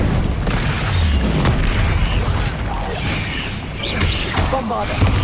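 Bombarda blasting spells explode during combat in Hogwarts Legacy on PS5 Pro, producing loud, dense booming blasts that overlap continuously with heavy rumble throughout.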